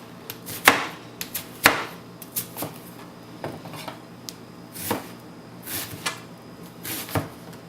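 Knife chopping about 2 pounds of ground pork on a board for a stuffed tomato stew, a run of sharp, uneven thwacks with a few louder strikes, close and clear, no talking.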